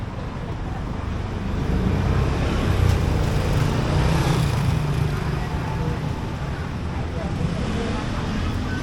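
Steady roar of busy road traffic near a large seated Buddha image at a temple, a dense continuous wash of engines and tyres that swells slightly mid-way, with faint voices underneath.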